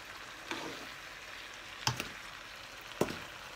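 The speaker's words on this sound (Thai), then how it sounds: "ผัดแป๊บเดียว" Tofu stir-fried in a pan gives a soft, steady sizzle. Three sharp utensil clicks stand out against the pan at intervals.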